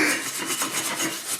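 A wire brush scrubs quickly back and forth over a fresh aluminum weld, making close, rhythmic rasping strokes at a steady pace.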